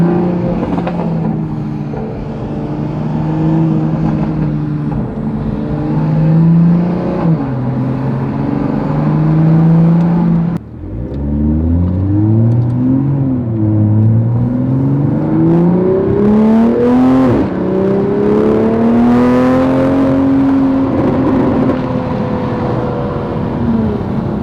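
A 2021 Toyota Supra A90 with a loud exhaust revs up and down. The engine drone climbs and falls in pitch over several pulls, with a brief dip near the middle, and any turbo spool is buried under the exhaust.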